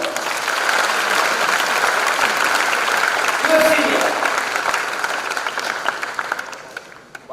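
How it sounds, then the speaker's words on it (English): A large audience at a freshers' induction programme applauds a senior student, loud continuous clapping from a packed hall with a voice speaking briefly over it before the applause thins out. "Doesn't she deserve a lot of applause from all of you?"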